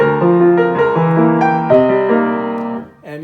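Jazz piano on a standard, played with the accompanying chords louder than the melody, so sustained chords dominate while the tune sits underneath, ending with a quick fading run and no talking.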